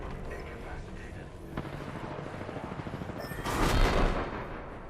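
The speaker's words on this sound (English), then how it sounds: "Getting shot at." Video-game gunfire crackles in rapid bursts and distant booms, building into a louder barrage near the end, with players talking over it.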